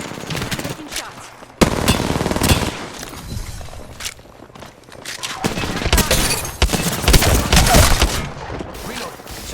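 Rapid automatic gunfire and explosions from an Apex Legends firefight, dense and loud throughout, with a burst of shots near the start and heavy sustained fire later, game voice lines mixed in.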